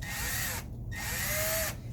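A power drill whirs loudly up close as it bores a hole through duct tape into a metal sheet for etching, running in two bursts with a brief pause between.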